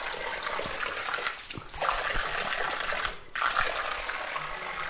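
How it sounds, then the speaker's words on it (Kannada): Spring water gushes steadily out of a pipe near a Ganapathi temple in Karnataka, a continuous close rushing splash that fills the scene with no talk over it. "ಅದು ಪೈಪಿನ ಮುಖಾಂತರ ಒಂದು 30 ಫೀಟ್ ನೀರು ಬರ್ತದೆ"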